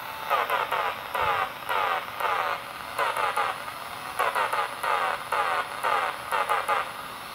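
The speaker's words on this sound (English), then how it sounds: "I can send Morse code now. Let's send an SOS message." A Morse code SOS tapped out on a basic homemade radio transmitter and picked up by a nearby radio, heard as rhythmic bursts of buzzing tone switching on and off over a steady hiss of static, with no voices.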